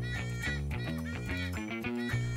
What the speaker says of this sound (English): The white-bellied sea eagle is a majestic bird of prey found near oceans and other water bodies.